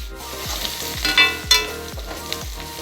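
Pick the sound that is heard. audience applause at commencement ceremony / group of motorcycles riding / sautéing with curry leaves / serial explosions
sautéing with curry leaves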